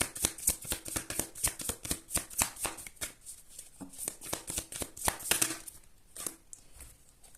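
Oracle cards being shuffled by hand, a quick series of crisp riffling snaps and slaps in an uneven rhythm, close and fairly loud with no talk.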